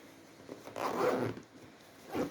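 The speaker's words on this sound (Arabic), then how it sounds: "السوستة هتتقفل بمنتهى السهولة" A zipper is pulled shut along a packed swim bag in one continuous, close, raspy stroke lasting about two seconds, with a brief extra tug at the end.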